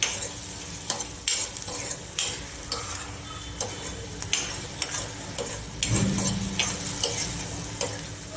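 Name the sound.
stirring garam masala and Kitchen King masala in pan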